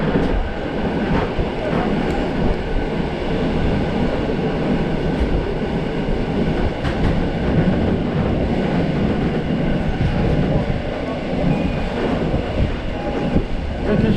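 A Polregio train runs along the railway track toward Zakopane, a loud steady rolling rumble with rhythmic wheel clatter and occasional clicks heard from inside the carriage.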